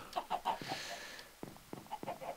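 Chickens in a Minecraft farm give a few short, quiet clucks in an irregular patter, faint and alone with no talk over them.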